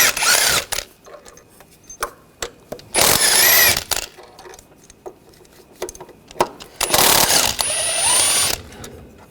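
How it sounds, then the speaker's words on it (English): Ratchet wrench with a 15mm socket backing out bracket bolts during serpentine belt replacement on a 2013-2022 Buick Encore, loud clicking bursts in several separate runs with quieter handling noise in between and no talk. "we're going to take these 3 bolts out, use the same 15mm socket"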